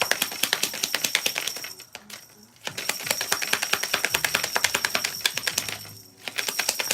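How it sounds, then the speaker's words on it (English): Rapid, crisp flicking clicks of cards being shuffled, steady and close, broken by two brief pauses before resuming. "I love shuffling this deck."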